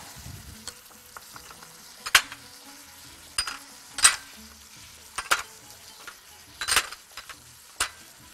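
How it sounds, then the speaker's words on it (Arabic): Spiced duck fries in a pot with sugar, cinnamon and stock cube, a soft steady sizzle punctuated by several sharp scrapes and clinks of a utensil being stirred. "اهو نقلب بقى."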